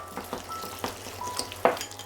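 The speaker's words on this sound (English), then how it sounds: "Each time you add in some liquid, vigorously stir in one direction to incorporate the liquid into the meat" A spoon beats wonton meat filling as liquid is worked in, a run of wet, sticky slaps and scrapes in a quick uneven rhythm, close up and alone.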